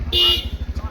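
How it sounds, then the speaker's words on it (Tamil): A vehicle horn blares once, short and loud, on a street in Pondicherry, India, followed by a rhythmic low engine thrum close by. "ஹார்ன் அடிங்கண்ணா."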